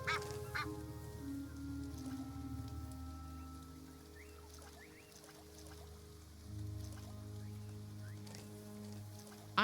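An Egyptian goose in the Seclusa nature photography video game gives a few faint honks over soft steady rain and low ambient tones, with a sharper burst near the end.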